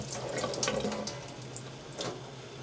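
Cold water runs steadily from a kitchen tap as hands are wetted before shaping bread dumplings, a close, continuous splashing stream with small shifts as the hands move under it.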